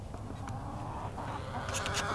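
White Leghorn chickens cluck softly outdoors, a few scattered calls over a steady wash of background noise, no talking.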